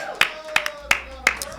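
Sharp claps at a live comedy podcast taping come in a slow, evenly spaced run of about five, close and distinct, with a voice talking faintly beneath them.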